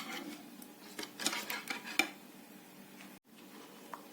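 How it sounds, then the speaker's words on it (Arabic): A hand whisk beating liquid chocolate cake ingredients, with sugar and oil, in a bowl. Close, uneven scraping and clinking strokes run steadily, with a few sharper taps against the bowl. "هضرب كل الحاجات السائله دي مع بعض كده بالمضرب لغايه ما السكر يدوب"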